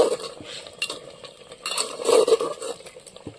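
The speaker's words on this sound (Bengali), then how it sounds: "এবার এই গরম মশলাটা দিয়ে আমি ভালো করে মিশিয়ে নেবো মাংসের সঙ্গে।" Spoon stirring garam masala paste into cooked mutton in a handi pot, with a few scraping clinks and soft sloshing scrapes of metal against the pot, close and irregular.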